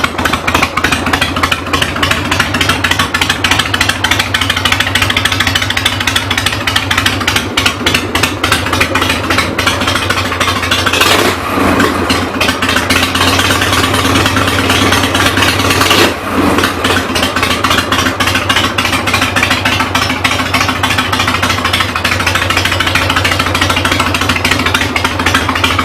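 A 1972 Harley-Davidson Shovelhead, kickstart only, runs steadily close by with a loud, continuous engine drone and a rapid regular beat, holding near idle with a couple of brief dips in tone.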